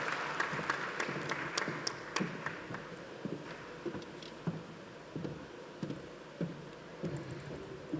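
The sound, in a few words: audience applause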